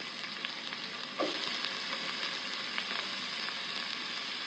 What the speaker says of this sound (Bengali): সয়াবিন তেল দিয়েছি, তারপরে এর মধ্যে দিয়ে দিচ্ছি পেঁয়াজ